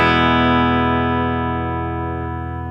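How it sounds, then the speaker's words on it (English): A Telecaster electric guitar on a clean amp setting lets a single chord ring out, strong and sustained, decaying slowly over a few seconds with no other sounds. "We have the guitar plugged in, clean sound."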